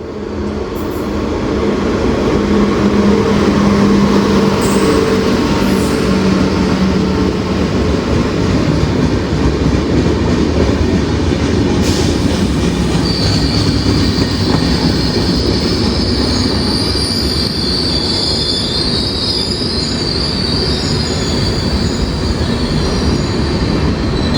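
Mangaluru Central–Thiruvananthapuram Central Express hauled by a WP7 locomotive, its mud-streaked coaches rolling past at close range in a loud, steady rumble of wheels with squealing metallic screeches along the rails, near a temple gate.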